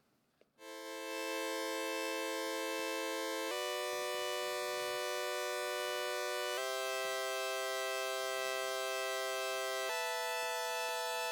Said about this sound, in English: you might be able to hear the key changes